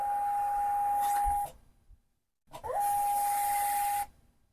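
A Phomemo 4x6 desktop thermal shipping label printer feeds labels to the end of the roll: two loud bursts of whirring, hissing mechanism noise with a steady high tone, separated by a short silent pause.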